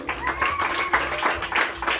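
A studio audience claps for a contestant at a Spanish-language show competition, with brisk uneven clapping over a sustained tone and faint voices in the background.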